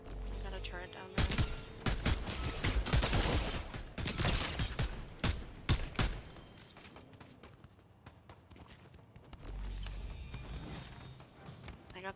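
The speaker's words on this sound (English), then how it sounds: "Got a turret down there." A turret in a video game fires dense, rapid bursts of shots in a long volley, with gameplay noise around it and people talking over it.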